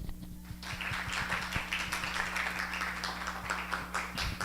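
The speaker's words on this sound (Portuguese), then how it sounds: "Eu vou até pedir para vocês me ajudarem a aplaudi-la." Audience at a library week academic talk applauding, a steady patter of many hands clapping throughout, moderately distant in a hall.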